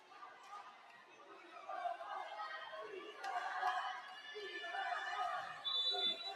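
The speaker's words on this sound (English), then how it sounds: "Adamson crowd here getting rowdy, trying to inspire their classmates" An Adamson crowd gets rowdy at a UAAP women's volleyball game against UST, a steady murmur of chatter and cheering from a large arena audience under a commentator's voice.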